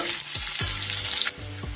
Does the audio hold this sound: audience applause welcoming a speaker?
no